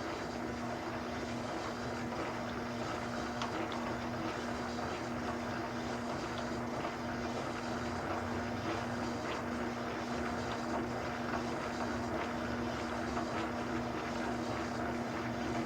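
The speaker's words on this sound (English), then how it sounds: "We'll crank the lathe up to about 100 RPM." A lathe spins a Harley-Davidson magneto at about 100 RPM, giving a continuous steady motor drone with a fixed hum and no talking.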